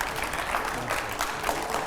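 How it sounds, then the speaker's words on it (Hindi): A studio audience gives a dense, continuous round of applause to welcome a guest on a TV9 news show. The clapping is steady and moderately close, with no talking over it. "जोरदार तालियां हो जाए गौरव जी के लिए।"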